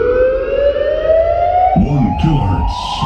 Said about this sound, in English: we are about to do a full frequency sweep